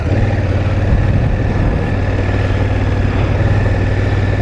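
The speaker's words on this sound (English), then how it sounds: "Tyres just bogging in the sand." Honda Africa Twin motorcycle engine droning steadily as its tyres bog in sand on a Suffolk trail, a close, loud, unbroken rumble with no talk.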